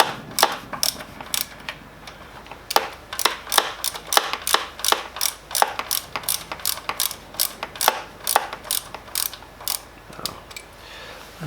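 A spanner works a bolt during a valve clearance check on a BMW K1300R motorcycle, giving a long series of crisp ratcheting clicks in irregular bursts, close and fairly quiet.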